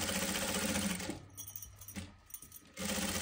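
A sewing machine stitching a velvet kurti runs in a fast, steady whir, pauses for about a second and a half with a few faint clicks, then starts up loudly again, with no voices.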